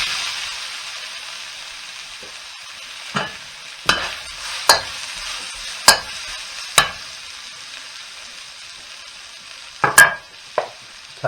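Peppers stir-fry in oil in a wok for chow mein, with a soft background sizzle punctuated by a series of sharp, separate metallic scrapes and clanks from stirring. It is close, and no one speaks.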